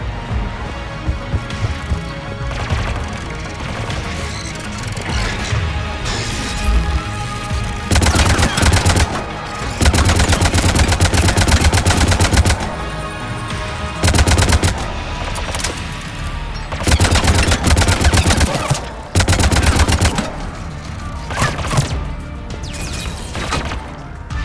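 Turret gunfire in the Mass Effect 3 video game, with sustained loud automatic bursts several seconds long alternating with quieter stretches of rattling combat noise.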